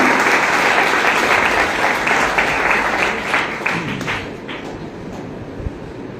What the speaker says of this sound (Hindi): एक बार योगेश के लिए जोरदार तालियों की अपेक्षा करते हैं।